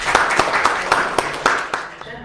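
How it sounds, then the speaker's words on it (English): An audience at a youth civic engagement event applauding a speaker: a run of distinct, rhythmic claps, steady and fairly close, fading near the end, with voices mixed in. "let's give a round of applause once again for Haya"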